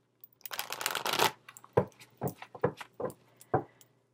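Tarot cards riffle and shuffle nearby in a quick burst, followed by several separate soft slaps and taps as the deck is handled.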